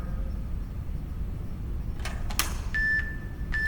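A workout interval timer gives a short electronic beep near the end, with a few clicks and knocks just before it, over steady background hiss in an exercise space.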